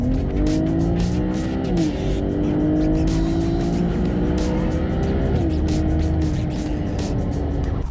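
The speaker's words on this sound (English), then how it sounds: "The upgraded dual cone intake just enhanced that turbo induction sound." A tuned BMW 135i with a 500 bhp N54 twin-turbo engine and upgraded dual cone intake accelerates hard, a loud, close engine note rising through the revs with a brief shift dip, turbo whoosh and intake roar.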